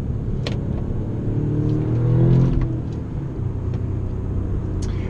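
An Audi S3 8V engine rumbles from inside the car as it accelerates along the road, the tone swelling to a peak midway and easing off, moderately loud, with no talk.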